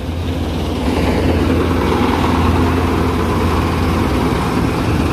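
A tractor engine idles at a paddy field during the rice harvest, giving a steady, close, continuous low rumble with no talk over it.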